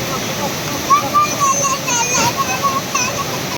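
Aruvikkuzhi waterfall pours as a steady wash of falling water close by, with voices and a child's chatter over the rush.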